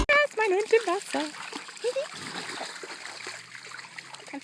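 An Australian Shepherd puppy splashes in the water of the Rhine river, with brief splashing and trickling under a voice and high squeaky vocal sounds near the start.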